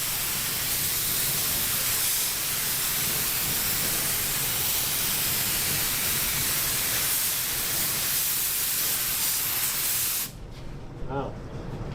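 A spray gun lays a single-stage paint tack coat on a 1952 Ford with a loud, continuous hiss that runs unbroken for about ten seconds, then cuts off abruptly.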